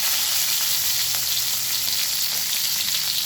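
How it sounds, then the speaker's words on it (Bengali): Cumin seeds and green chilli sizzle steadily in hot oil, a loud, continuous close-up crackle with no voices. "আমি দিয়ে দিলাম জিরে ফোড়ন আর দিলাম আর কাঁচা লঙ্কা"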